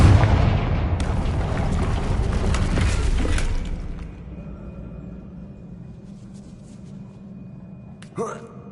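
A Confringo blasting spell explosion in the Hogwarts Legacy video game: a loud, rumbling blast that swells over several seconds and then dies away into a quiet room tone, with a short clatter near the end.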